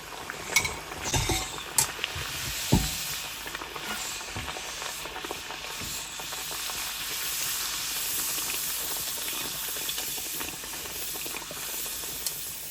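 Rounds of ghari dough fry in hot oil with a continuous bubbling hiss. A few sharp knocks and clatters come early on, then the sizzle settles into an even, moderate wash.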